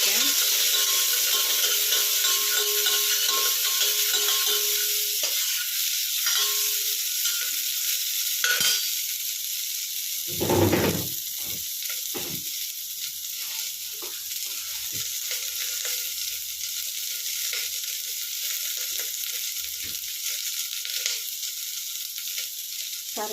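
Curry leaves and dried chillies frying in oil with small onions, big onions and garlic in a pan, a steady close sizzle with occasional stirring scrapes and a brief louder clatter midway.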